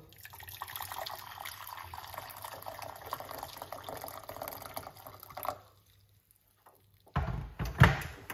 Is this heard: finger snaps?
no